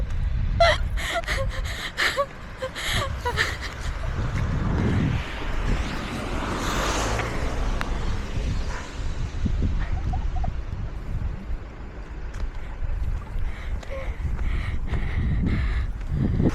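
Strong snowstorm wind roars and buffets steadily for the whole stretch, loud and continuous with gusty surges, blowing hard outdoors in winter in Japan.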